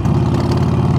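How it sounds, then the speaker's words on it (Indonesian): A Harley-Davidson V-twin motorcycle engine rumbling, a loud, close, deep and steady throb without pause or talk over the brief stretch. "Berkendara sambil mendengar suaranya yang bergemuruh"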